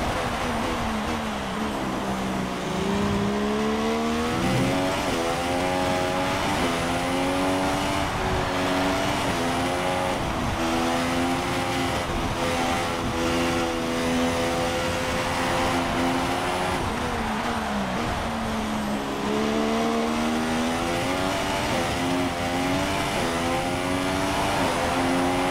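Formula 1 race car engine in the F1 2016 video game, wet Russian Grand Prix, revving and accelerating through gears in rising whines, continuous and loud with no speech.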